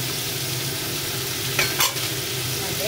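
Pork and mixed vegetables with oyster sauce stir-fry in a pan, a steady loud sizzle running throughout with two brief scraping stirs near the end.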